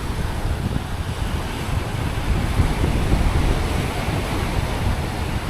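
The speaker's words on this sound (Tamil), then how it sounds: "செம்ம அலையாக இருக்குது பாருங்கள்" Steady roar of sea waves washing onto the shore near a fishing village in Ramanathapuram, mixed with gusty wind buffeting the microphone, continuous and loud with no voices.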